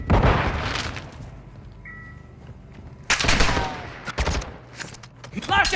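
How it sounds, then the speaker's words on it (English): A flash grenade and gunfire ring out during a squad-based video game shootout, with loud broadband bursts and rapid shots clustered after a quieter stretch, mixed with game sounds. "Throwing flash grenade!"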